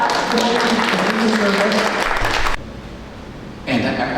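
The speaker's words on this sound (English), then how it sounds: "You can clap." An audience claps after a speaker is thanked during a talk, dense sustained clapping that cuts off suddenly partway through, then a quieter gap before sound returns.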